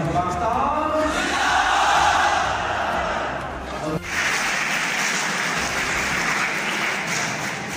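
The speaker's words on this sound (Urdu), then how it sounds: "طلبہ نے پاکستان زندہ باد کے نعرے لگائے۔" Students chant Pakistan Zindabad slogans in a loud, massed group at the close of a traffic-awareness seminar at a government college in Gujrat, with rhythmic shouting and crowd noise that swells and then continues more evenly.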